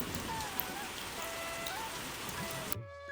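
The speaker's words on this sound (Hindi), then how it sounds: "बरसात के मौसम में उसकी झोंपड़ी की छत से पानी टपकता रहता था" Rain dripping through the roof of a hut in the rainy season, a steady dense hiss of falling water that cuts off abruptly just before the end.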